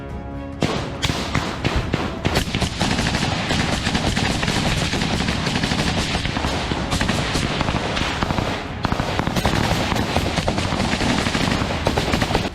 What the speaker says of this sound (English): In this conflict, in which neither side could see the other, only blind shots were fired.